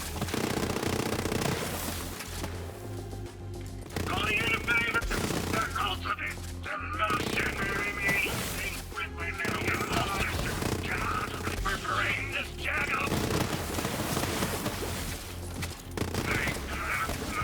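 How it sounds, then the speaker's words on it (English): Rapid bursts of dual-wielded gunfire in the Borderlands 3 video game, loud, dense and repeated, sound in clusters across the clip with short gaps and crackling impacts between volleys. "Dual weapons feel very nice in this game, I will say."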